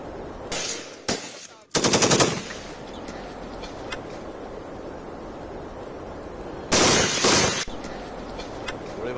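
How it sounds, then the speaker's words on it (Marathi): Rapid machine-gun style bursts fired into a truck's tyres by a soldier in Balochistan: a short burst, a longer loud volley, then another heavy volley later, all close and loud over steady background noise. "गोळीबाराची ही दृश्य यावेळेस कॅमेऱ्यात कैद झालेली आहेत"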